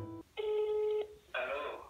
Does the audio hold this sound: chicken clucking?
no